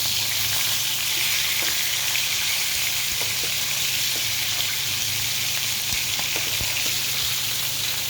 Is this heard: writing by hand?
no